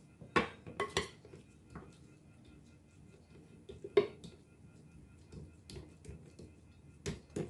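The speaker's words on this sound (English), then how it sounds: "take that offset spatula and begin to spread that out" An offset spatula spreads a keto multi-seed cracker mixture, giving soft scraping broken by several sharp taps and clicks, clustered early and again near the end, close and fairly quiet.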